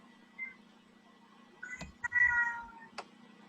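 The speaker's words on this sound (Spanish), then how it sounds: "empezó a maullar" A cat meows a few times nearby, drawn-out and fairly clear against a quiet, humming room, with no voices.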